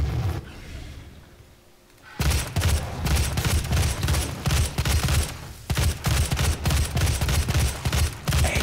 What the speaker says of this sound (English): This little machine gun kinda be wrecking though.